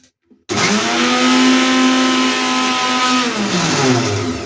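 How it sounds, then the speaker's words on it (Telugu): A mixer grinder grinding a cup of turmeric starts up after a brief click and runs loud and steady, its motor whining evenly, then the pitch dips slightly as the load shifts near the end. "వేసి మిక్సీ పడుతున్నా"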